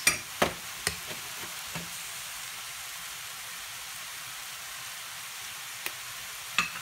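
Stuffing for savory crêpes, seasoned with pepper and herbes de Provence, fries in a pan with a soft, even sizzle, punctuated by a few sharp utensil clicks and stirs.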